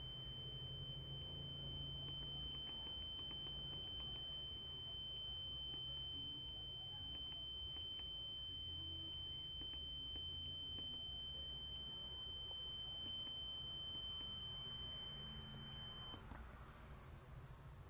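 A home security alarm buzzer built around an STM32 controller sounds continuously, a steady high electronic tone with faint clicking underneath, holding for most of the stretch before stopping near the end, with no talking.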